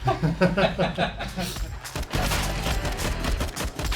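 Gunfire in a Counter-Strike match: rapid shots over game sounds, with a denser burst of firing in the second half.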